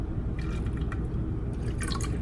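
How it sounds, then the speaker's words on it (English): Vanilla extract poured into almond milk, a brief trickling drip over a steady low background rumble, with a few brighter splashy bursts late on; no talking. "Take the vanilla extract and pour it in."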